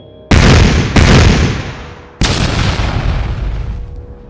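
Three sharp, loud booms strike one after another, each bursting out abruptly and then fading into a long, rumbling decay, like small explosions from clashing weapons, with no voices present.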